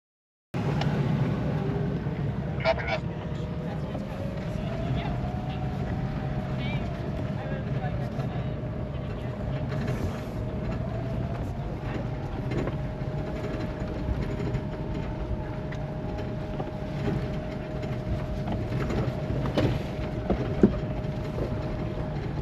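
Electric Land Cruiser coasting downhill on a mountain trail in the Colorado Rockies under regenerative braking, a steady rumble of tires and cabin noise beneath a rising, then level electric whine, with people talking inside.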